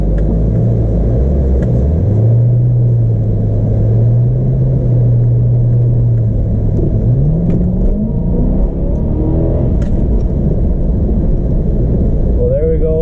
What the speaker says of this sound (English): I'm gonna go run it down the highway, and hopefully there's no issues.